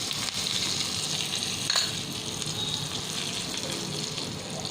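Curry leaves, green chilli, a pinch of asafoetida and turmeric sizzle in hot oil as a tempering for boiled pumpkin pieces, a steady close crackle with no voices.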